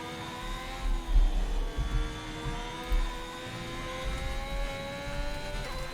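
A Ferrari race car in a racing video game works through the S-curves at the Mexico circuit, with a moderate engine drone whose pitch slowly rises and falls, plus a few brief low thumps.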